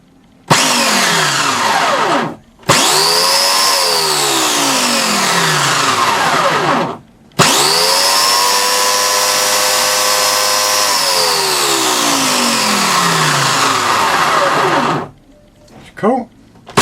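A repaired McCulloch chainsaw motor spins up loudly twice, each run rising to a steady high whine and winding down, with a short pause between runs and a brief fade at the end.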